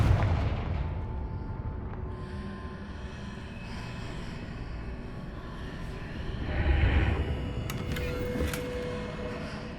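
Confringo explosive spell cast in Hogwarts Legacy, a loud booming blast that opens the clip and fades into a long rumbling tail, with fainter crackles and impacts later on.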